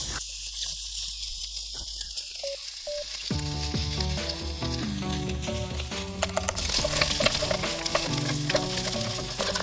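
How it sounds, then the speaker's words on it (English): Cut pork intestines frying in a pan over medium heat as they render into lard, a loud close sizzle with sharp popping crackles; a musical backing enters partway and plays under the frying. "Add 15 pieces of intestines that's been cut into pieces. We will render these so it will turn into lard."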